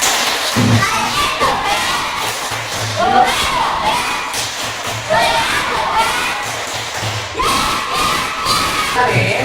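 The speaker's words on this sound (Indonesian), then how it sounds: "Tepuk semangat." Schoolchildren in a primary classroom perform a rhythmic spirit clap chant, group claps and shouted voices repeating in steady bursts over about nine seconds, loud and close.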